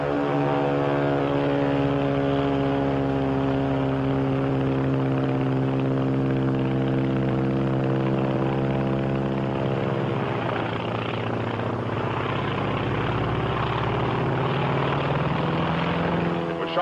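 A Japanese Zero WWII fighter plane drones steadily overhead, its propeller engine producing a strong harmonic hum that holds for the whole stretch and shifts pitch slightly as it passes, with no voices.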